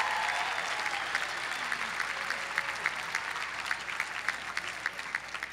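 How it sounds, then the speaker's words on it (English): Steady applause from a large commencement crowd, dense clapping filling the room throughout with a few sharper claps standing out. "Give mothers and grandmothers and all of them a round of applause."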